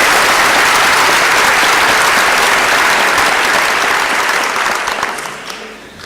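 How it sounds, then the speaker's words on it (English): Loud, sustained applause from a large university commencement crowd, steady for several seconds before tapering off at the end. "Please applauding the support staff for their efforts."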